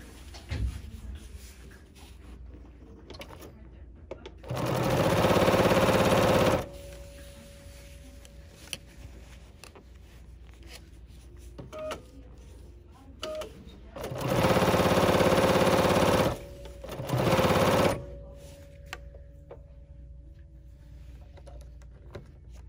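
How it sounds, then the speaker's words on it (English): Bernina sewing machine with binding foot #71 stitching binding onto a quilt, with two loud bursts of steady machine whirring separated by quieter handling noises and a faint hum. "sewing a few stitches, using my quick reverse and going backwards"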